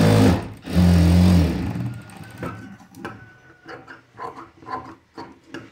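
A sewing machine stitches a princess-cut blouse with lining. A loud, close whirring run opens, then shorter rhythmic bursts of stitching follow with no one speaking.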